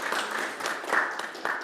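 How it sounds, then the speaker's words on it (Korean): A church congregation claps to welcome a visiting member during Sunday worship, a fairly faint, steady patter of hands in a room lasting under two seconds with no voices. "한번 일어나시면 박수로 환영하겠습니다"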